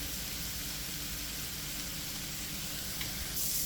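Shrimp fry in a pan, making a steady, even sizzle with a constant hiss and no break, and a faint tap near the end.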